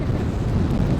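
Strong wind buffets the microphone on a highline, a steady, loud low roar with no breaks and no talking.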